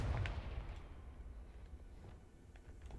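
A Confringo blasting spell detonates in Hogwarts Legacy, one booming explosion at the very start that decays into a faint, low rumble.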